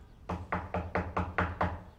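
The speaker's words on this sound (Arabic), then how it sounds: "ايه ده بيخبط على الباب ليه" Seven sharp, evenly spaced knocks on a door, close and fairly loud, rapping in a quick steady rhythm with no talking.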